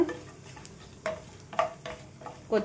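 Bay leaf, cardamom and cumin fry in oil with a soft sizzle, broken up by several light clinks and taps of a spoon stirring the pan.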